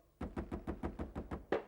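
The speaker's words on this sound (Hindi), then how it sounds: "दरवाजा खोलो वीरू।" Eight evenly spaced, close knocks on a door ring out one after another in a police drama scene from a horror TV serial. A slightly louder final knock ends the series.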